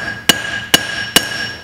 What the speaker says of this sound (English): You can kind of sharpen up that shoulder with the heel, the flat side of the hammer